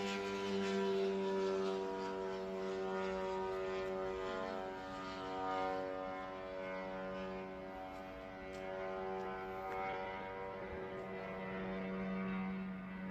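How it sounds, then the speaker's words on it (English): A drone flies overhead during an attack, giving a steady, fairly faint droning buzz with rich layered harmonics that lasts without a break. "That's a drone right there"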